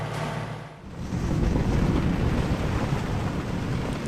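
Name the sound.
wind on a sailboat at sea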